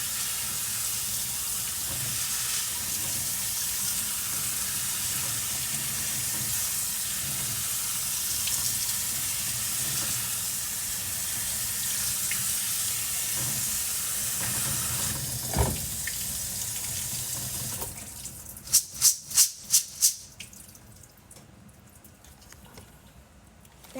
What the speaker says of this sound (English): I'm just going to give these beans a good rinse